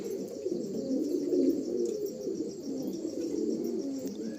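Andhra pigeons in a pigeon loft coo steadily in low, overlapping, throaty murmurs, close and continuous, with faint chirps in the background and no speech.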